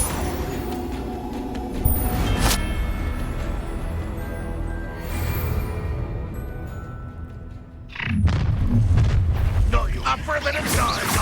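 Confringo blasting curses explode in a Hogwarts Legacy spell battle, with heavy booming blasts and rumbling bursts, a sharp impact near the end followed by a dense rush of debris-like noise.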